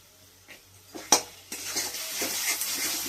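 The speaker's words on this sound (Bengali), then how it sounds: "এদিকে মশলাটা আমার কষা হচ্ছে" Ground cumin and chili powder masala fries in a pan for chickpea ghugni, with soft sizzling and a few spoon scrapes and clinks against the pan, one sharp knock standing out, close and fairly quiet.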